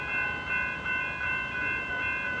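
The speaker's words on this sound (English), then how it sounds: "That's a train coming in from Frankston in." A suburban train pulls in from Frankston at Mordialloc station with the boom gates down, a steady rumbling hum and sustained tonal whine of the rolling train filling the short stretch, moderately near and without speech.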